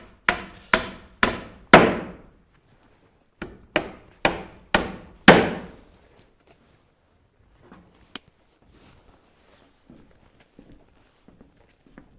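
Sharp hammer blows drive 8 cm nails into wooden boards while a cattle barn is built: two close, loud runs of four ringing strikes each, followed by a quiet pause with a few faint knocks.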